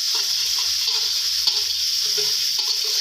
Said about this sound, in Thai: ใส่ เครื่องพะโล้ที่เราปั่นไว้นะครับ เมื่อสักครู่นะครับ ใส่ลงไปผัดเลยนะครับ